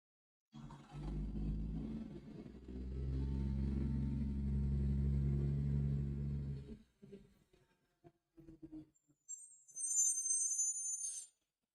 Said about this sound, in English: Garbage truck outside, super loud, really annoying me.